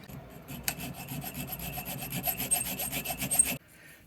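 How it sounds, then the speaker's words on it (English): Needle file shaping a small drilled metal cam washer for a bathroom toilet door thumb-turn lock, a quick steady run of close rasping strokes that stops abruptly near the end, with no talk. "so now I just need to needle file it into shape."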